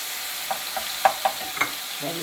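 Menemen sizzles in a frying pan while a utensil scrapes and stirs it in several short strokes, close and clear against a soft, steady frying hiss, with no talking.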